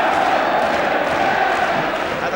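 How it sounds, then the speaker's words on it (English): A football crowd massed behind the Tottenham goal during a 1984/85 Tottenham v Newcastle United match sends up a steady, dense roar that holds throughout. "And the crowd behind that Tottenham goal,"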